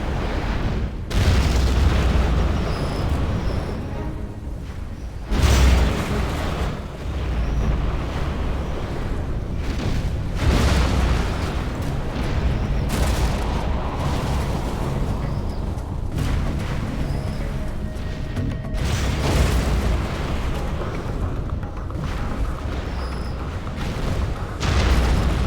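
Cruise missiles explode in the Command & Conquer Generals war game as a string of heavy booms and rumbling blasts, recurring every few seconds over a dense, continuous battle din.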